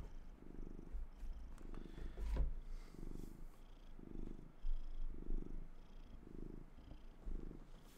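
A fat cat purrs close by in a steady, rhythmic rumble, each breath cycle pulsing evenly across several seconds with a brief louder bump partway through.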